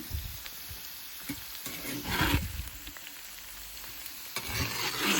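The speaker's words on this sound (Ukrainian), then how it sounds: "Я тут смажу картопельку." Potatoes sizzle and crackle in a hot pan, with occasional stirring scrapes and bumps, fairly quiet and close.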